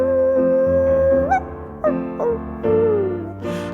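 A dog howls at close range in several long, wavering cries that slide up and down in pitch, with brief gaps between each drawn-out note.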